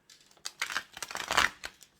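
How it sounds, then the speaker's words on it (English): Tarot cards being shuffled by hand, a quick run of crisp riffling flicks close up, quiet and with no talk. "So, one more shuffle."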